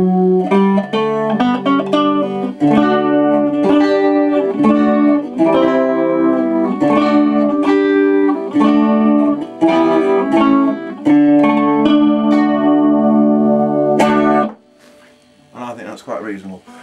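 A metal-stringed teardrop Bettenlager Bowl runs through a small amplifier, giving loud, sustained plucked melody lines and chords for about fourteen seconds before dropping to a few quieter notes near the end.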